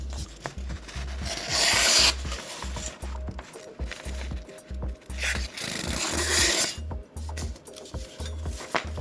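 A kitchen knife is drawn through a Ruixin Pro RX-009 sharpener with close, gritty rasping strokes, two long louder scrapes among repeated shorter rubbing passes, with knocking thumps underneath.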